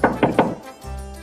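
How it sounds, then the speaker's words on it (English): Three quick wooden knocks on a shoemaker's door in an animated story, evenly spaced and close, followed by a low hum. "Again, the merchant knocks on the shoemaker's door."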